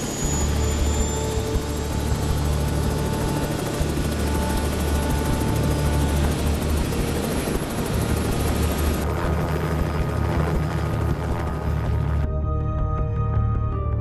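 A helicopter spooling up for takeoff in a film scene, a loud, steady, close rotor and turbine roar with a rising whine, which cuts abruptly to a quieter tail near the end.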